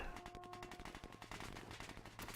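Gatling Riders, machine-gun units in the Paraworld strategy game, fire loud, rapid bursts of gunshots. The dense crackle runs steadily through the clip, mixed with other battle sounds.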